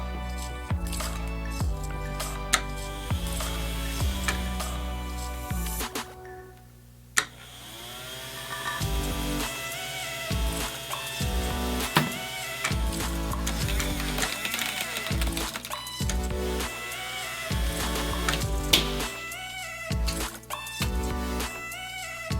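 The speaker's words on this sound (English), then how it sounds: "let's put a disc in it and make sure it will still shoot the disc" A Zoom-o toy disc launcher whirs with a steady buzzing motor hum, broken by several sharp clicks and thumps as a disc is loaded and fired, all close by.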